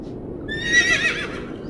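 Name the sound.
horse neighing as a cart sets off at a gallop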